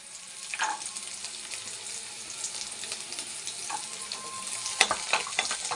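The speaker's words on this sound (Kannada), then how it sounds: "ಎಲ್ಲ ಲೈಟಾಗೆ ಫ್ರೈ ಮಾಡ್ಕೋಬೇಕು." Garlic fries gently in a pan for brinjal gojju, giving off a soft continuous sizzle, with a few light clinks and scrapes as it is stirred.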